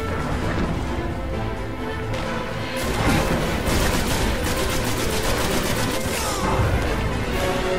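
Gunfire in Destiny, with rapid bursts of sharp shots and crashing impacts in a dense, loud, continuous stream of combat noise and quick repeated rounds throughout.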